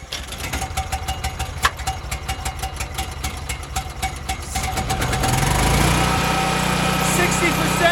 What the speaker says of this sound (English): this has got a Subaru engine on it, and it just starts up every time in the cold